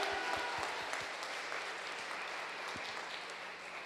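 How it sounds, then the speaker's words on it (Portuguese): A church congregation applauds, a faint, distant wash of steady clapping from a crowd with a few sharper claps, no clear speech. "Aplauda o Senhor aí, dá o seu grito de vitória"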